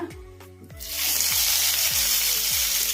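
Chopped onions dropped into a pan of hot oil with fried cumin seeds burst into a loud, steady sizzle after a few quiet clinks of the pan, the hiss continuing close and strong to the end.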